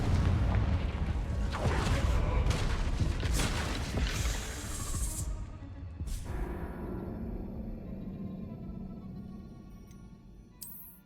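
Confringo fire spell blasts in Hogwarts Legacy, a loud broadband explosion with rumbling booms for several seconds, then a sharp burst around the middle and a fading tail with a small pop near the end.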